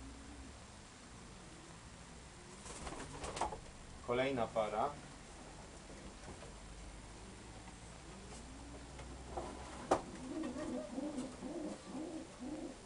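Racing pigeons paired for long-distance flying coo softly in their loft, in two short bursts of cooing with a voice talking briefly.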